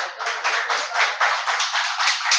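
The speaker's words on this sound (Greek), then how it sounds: "Μη χειροκροτάτε" Applause rises from the audience at a municipal council meeting, a continuous crowd of hands clapping steadily and fairly loud for a couple of seconds with no talk over it.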